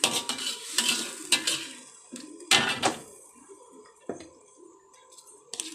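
A spoon stirs spices and turmeric in a cooking pot for a coconut curry, giving scattered metallic scrapes and clinks with soft sizzling underneath, close and moderately quiet.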